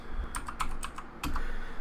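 Keystrokes typed on a computer keyboard while entering a command on an N8VEM SBC V2 single-board computer, a short burst of several close, crisp clicks with a brief pause before a final pair.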